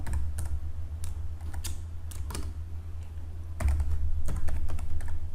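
Keys on a computer keyboard being typed while writing printf code in C, with irregular clusters of crisp clicks close up over a low steady hum, and no speech.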